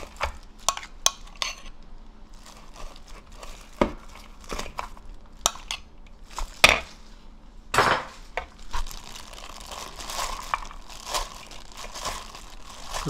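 Wild chive (dallae) salad with chili powder and vinegar dressing being tossed and mixed in a bowl, giving irregular close clinks, soft rustles and wet squishing sounds with scattered sharper knocks, without talk.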